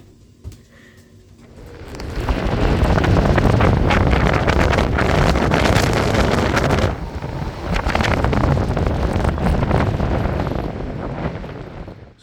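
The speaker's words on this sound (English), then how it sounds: "So you guys getting tired of the wind yet?" Strong wind buffets the microphone on board a boat, a loud, rushing roar that swells after a quieter start, dips briefly midway, then surges again, with no speech over it.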